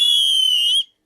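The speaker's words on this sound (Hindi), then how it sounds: "ये जी सीटी के सैंपल्स होते हैं" A whistle sample for Himachali pahadi folk music plays one loud, clean, steady sustained tone with bright overtones, held for under a second before stopping abruptly into silence.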